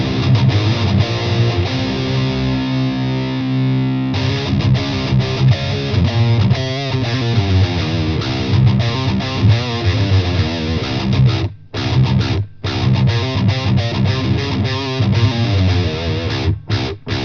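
A heavily distorted electric guitar, played through a Joyo Tone Chain TC pedal with an impulse response, plays chords and riffs, loud and sustained, with a few brief abrupt cutoffs between phrases.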